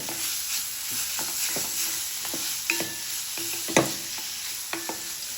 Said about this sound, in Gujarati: મીઠું અને હળદર નાખી થોડા સોફ્ટ થાય ત્યાં સુધી આપણે એને ચડવીશું